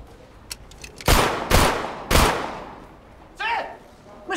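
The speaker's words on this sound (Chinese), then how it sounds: "那谁在屋里乱开枪？" Gunfire goes off indoors in a Chinese TV film scene: three loud, sharp shots in quick succession, each ringing out in the room, followed by a clattering crash of objects.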